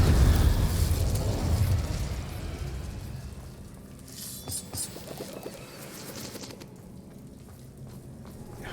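A Bombarda explosion spell in the video game Hogwarts Legacy goes off with a loud, deep blast right at the start, then fades into a quieter rumble with a few scattered pops and crackles.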